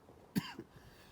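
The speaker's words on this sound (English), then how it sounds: "Y'all pardon all the coughing." A single sharp cough, fairly close, with a fainter throat-clearing rasp a moment later, set against a quiet room with no speech.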